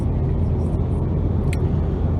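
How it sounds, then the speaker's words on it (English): The turbo engine of a 2014 Mitsubishi Lancer Ralliart gives a steady low rumble, heard close and continuous for a couple of seconds. "when you do kick it in, it does sound like it has a carburetor in it, the turbo kicking in and stuff"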